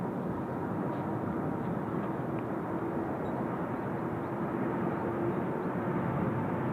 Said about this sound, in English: that is a long takeoff roll